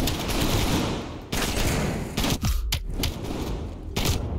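Dense, loud gunfire from the game Call of Duty: Black Ops Cold War comes in sustained bursts with brief gaps, close and harsh, with no speech.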